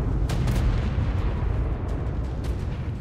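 Missiles and bomb blasts in Ark: Survival Evolved, Primal Fear mod, with deep rumbling booms and sharp bursts rolling continuously, loud and close, with no clear voices over them.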